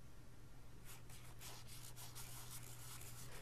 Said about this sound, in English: the inside of each is given a rough surface with a piece of sandpaper